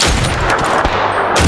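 Several rapid gunshots ring out in the shooter game PUBG, plausibly from a sniper rifle, loud and close over constant game background noise, with no talk.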